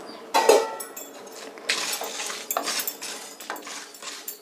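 Garlic dry-roasts with cumin in a pan for garlic rasam, a metal spoon clinking and scraping against the pan in a short series of sharp, close taps and rattles.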